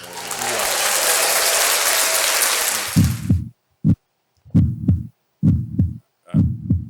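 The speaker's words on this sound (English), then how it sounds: "Is it a heartbeat?" A broadband wash of noise fades out, then a loud, deep heartbeat thumps in double beats, repeating steadily four or five times alone.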